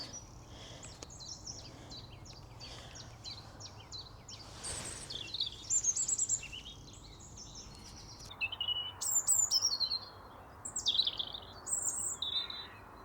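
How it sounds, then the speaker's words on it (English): A robin singing outdoors over open fields: a series of high, thin chirping phrases, moderately distant, over a soft background hiss of wind and ambience, with no talking. "A robin up there."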